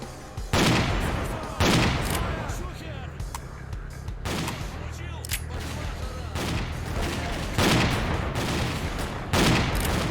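Gunfire in the game S.T.A.L.K.E.R. Clear Sky, with loud bursts of shots in irregular clusters over a constant background rumble, close and dominant throughout.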